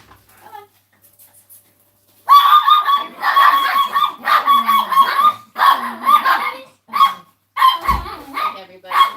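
Several dogs bark, yip and whine excitedly indoors as they are let back in, a loud, uneven run of overlapping calls after a quiet start, with a voice also heard.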